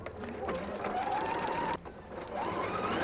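A sewing machine runs steadily, stitching a curved bodice seam at a 1.5 cm seam allowance, with one brief pause partway through before the stitching resumes.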